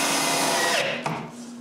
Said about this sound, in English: We begin by screwing the bottom frame in place.